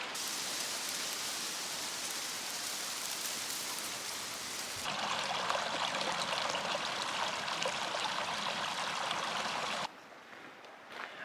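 A stream rushing continuously beside a trail crossing on the Eagle Rock Loop, a close, steady broadband splashing that swells louder midway and then drops off abruptly near the end.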